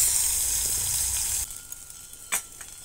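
Potatoes hiss and sizzle in hot oil, a loud bright frying sound that suddenly drops to a quieter crackle with a few sharp pops and spatters.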